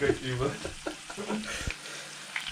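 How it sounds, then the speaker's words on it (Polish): Sausage sizzles and crackles in a frying pan with steady hissing, close by, partly mixed with some stirring and a few brief low voices. "Zapach smażonej kiełbaski."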